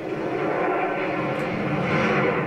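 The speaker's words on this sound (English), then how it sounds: "Friendly airstrike on the way" Steady droning roar of a friendly airstrike aircraft engine in the video game Call of Duty MW3, sustained and fairly loud throughout with no talk.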